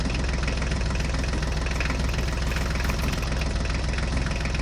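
Small toy mini tractor's engine running steadily, a continuous buzzing, chugging drone with a fast, even rhythm at constant loudness, close and alone.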